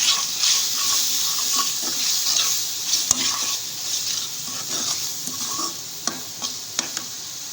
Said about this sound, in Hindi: पिसी मिर्च, हल्दी, धनिया, इसको भून लूँगी मसाले को।